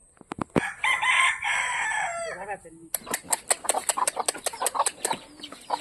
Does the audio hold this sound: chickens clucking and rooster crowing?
yes